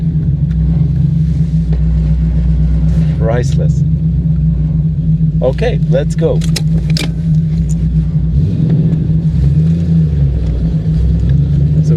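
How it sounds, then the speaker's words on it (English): A 1991 Camaro Z28 V8 with a 5-speed idles and drives with a steady, loud low rumble throughout, a brief rise in revs near the end; people talk briefly over the engine. "That engine sound."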